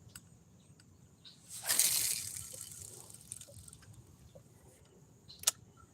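A fish strikes a lure on the water surface with one sharp splash, followed by fainter water movement and a brief click, heard alone in a quiet outdoor setting.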